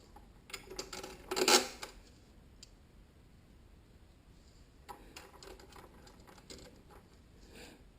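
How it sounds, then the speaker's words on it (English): A ratcheting combination wrench tightens fender riser bolts on a vehicle, heard as quiet bursts of fine ticking clicks with one louder clatter near the start. "these ratcheting combination wrenches. Super helpful in this situation."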